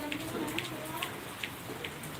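Steady rain falling outside a home with a soft continuous hiss and scattered drip taps, fairly faint, while a voice talks quietly in the background.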